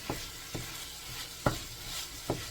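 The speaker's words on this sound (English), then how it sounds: "So I'm gonna add all the shrimps inside. Give it a mix and let it fry." Shrimps with pumpkin stirred in a frying pan: four distinct spatula scrapes about half a second apart over a soft, steady background sizzle, heard close and fairly quiet.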